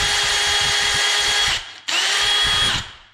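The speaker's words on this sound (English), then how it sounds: "keep bringing the reamer out, in, out" A power drill fitted with a reamer bores out plastic in two loud, whirring bursts, a short pause between them and the motor winding down after each.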